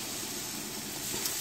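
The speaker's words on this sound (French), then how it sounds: "Je vais ajouter mes crevettes pour les faire griller." Large Argentine prawns grilling in melted butter give off a steady, close sizzle, an even hiss that holds without a break for the short moment.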